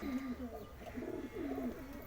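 Domestic pigeons at a home loft with newly hatched chicks coo in repeated low, throaty phrases, steady and fairly close, with faint background noise.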